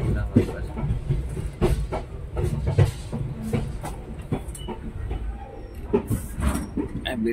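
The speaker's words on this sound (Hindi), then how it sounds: "अभी ट्रेन निकल चुकी है, स्लोली स्लोली जा रही।" A passenger train pulls slowly out of the station on the Solapur to Bengaluru route, with a steady low rumble and soft wheel clatter from inside the carriage, close and continuous.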